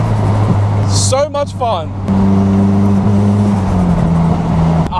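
A Nissan S15 Silvia's engine heard from inside while driving, a steady loud drone that rises in pitch as it revs, with someone talking briefly over it.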